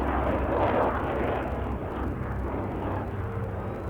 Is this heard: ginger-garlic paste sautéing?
no